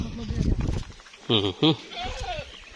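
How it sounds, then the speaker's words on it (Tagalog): Goats bleat in two short, loud wavering cries after a stretch of nearby talking, with fainter bleats following. "Daming kambing, oh."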